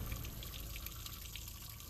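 Water draining out of a 1943 M5 half-track, a steady close splashing trickle that pours continuously without pause and with no talk.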